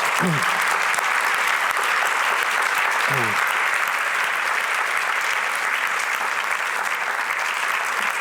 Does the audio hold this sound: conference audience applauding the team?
yes